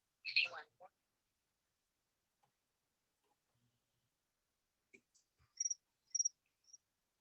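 A mobile phone ringtone that mimics chirping crickets sounds during a board meeting, with a few quick, faint bursts of high chirps near the end. A brief voice is heard at the start, and the rest is mostly quiet.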